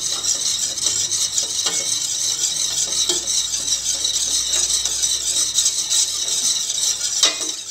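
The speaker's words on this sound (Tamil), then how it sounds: "இதை நல்லா விடாமல் விஸ்க் வச்சு நல்லா கலந்து விட்டுட்டே இருங்க, இல்லாட்டி அடி பிடிச்சிரும்." Foxtail millet milk pudding is whisked steadily in a pot on the stove, giving a continuous close scraping, swishing rhythm with occasional metallic taps against the pot, and no voices.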